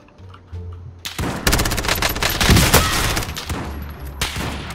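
Automatic gunfire in the video game Call of Duty: Warzone rattles out in dense, loud bursts, with rapid shots overlapping almost continuously after a brief quiet start.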